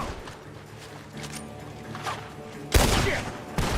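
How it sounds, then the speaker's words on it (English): Gunfire in Red Dead Redemption 2 rings out from a barn: faint distant shots early on, then two sharp, loud bursts near the end, over quiet background ambience. "The gunshots are coming from that barn."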